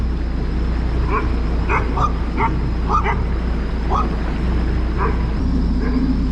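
Several dogs bark repeatedly nearby on a ramp, sharp yips and woofs in an irregular series over a steady low engine-like hum.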